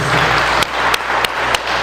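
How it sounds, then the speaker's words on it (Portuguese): Church congregation at a communion service applauding, a loud, close wash of clapping with a few sharper accents. "Você pode dar uma salva de palmas a Jesus?"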